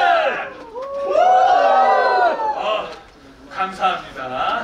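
Audience at a Seoul Namsan Gugakdang mask dance (talchum) performance cheers and whoops loudly in a sustained burst, with shouting voices rising and falling before fading into scattered cheers.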